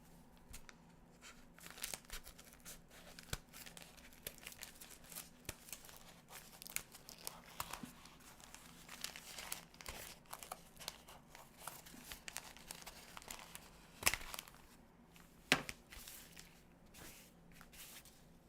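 Big scissors snip and crunch through material, with irregular cutting, crinkling and rustling that is faint and close, scattered across a long stretch with no voices.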